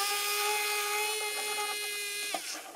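A small battery-powered electric drill loosens servo screws on a Kadet LT-40 model airplane under construction, giving a steady, close motor whine that holds for over two seconds before spinning down, with no talking.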